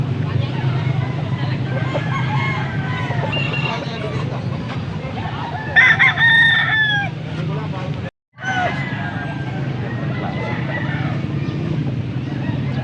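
A rooster crows briefly amid steady crowd chatter and clucking at a chicken market in Angeles, Pampanga, with a constant low hum throughout.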